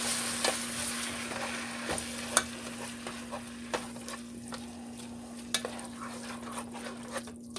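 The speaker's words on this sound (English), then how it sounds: "I'm going to stir that around for just a couple minutes" Canned petite diced tomatoes are stirred in a pot for a lasagna sauce, giving a steady low simmering hiss with scattered soft clicks and scrapes of a spoon against the pot.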